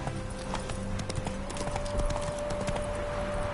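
Horse hooves in The Witcher 3: Hearts of Stone, a steady trotting clip-clop on a hard path, close and continuous over a quiet tonal music drone.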